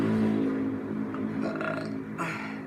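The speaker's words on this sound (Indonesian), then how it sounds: "Tuh sampai sendawa ya." A person burps in a long, low, rumbling belch that stretches for a couple of seconds, close and fairly loud.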